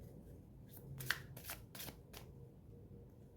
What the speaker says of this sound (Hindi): 2 कार्ड मैं इससे निकालूंगी।